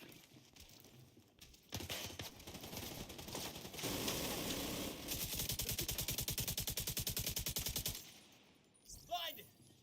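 Gunfire rattles through a firefight in The Division 2, with scattered shots giving way to a loud, rapid automatic burst lasting several seconds, close and heavy, then dying off as voices talk over parts of it.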